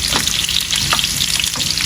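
Potatoes for kacchi biryani fry in hot oil with a steady, crackling sizzle that continues without pause.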